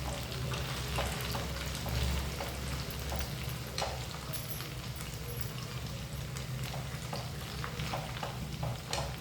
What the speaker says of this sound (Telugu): చూడండి చక్కగా వేగుతుంది